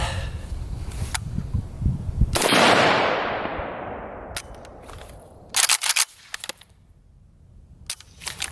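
An IWI Galil ACE rifle fires several sharp, loud shots at uneven intervals, one leaving a long ringing echo and a few coming in a quick cluster, with no voices.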